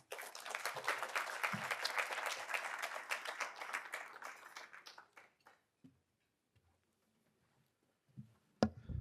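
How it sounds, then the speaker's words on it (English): Audience applause at the Tyler Prize for Environmental Achievement award ceremony: a dense, even wash of clapping that fades out after about five seconds into near silence, followed by a faint thump. "thank you for the applause"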